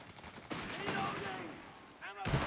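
Rifle fire between garrisoned infantry squads in the game Company of Heroes 3, heard as sharp overlapping gunshots and a dense crackle under someone talking.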